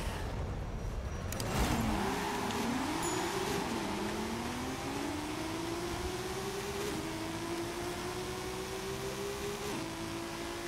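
A Subaru BRZ accelerates hard in a one-mile Forza Horizon drag race. The engine note climbs in pitch through several gear shifts, steady and fairly close, with no talking.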